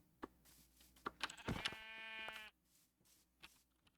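A sheep bleats once in a video game, a single drawn-out, wavering cry standing out clearly over faint background clicks and ambient game sound.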